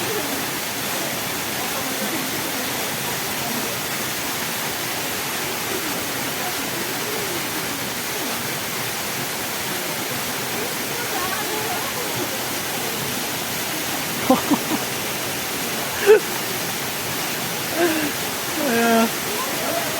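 Water pours and rushes steadily down through rocks in the Shivapuri jungle, a continuous broadband wash holding even throughout with a few brief knocks and bumps near the end.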